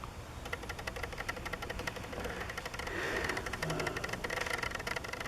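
An old gas mechanical rail speeder with a hit-and-miss engine runs steadily nearby, giving a rapid, even mechanical knocking and clatter over a low rumble that grows slightly louder toward the end.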